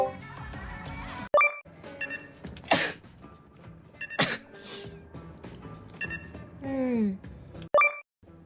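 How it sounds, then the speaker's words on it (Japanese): A Nijisanji VTuber sneezes during a live stream. There are two or three sharp, loud bursts, mixed in with chatter and scattered electronic game beeps. "今くしゃみしてたから"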